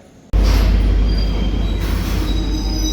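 A train pulls into a station platform, bursting in suddenly with a loud, close rumble of railcars and high metallic wheel squeal that continues throughout.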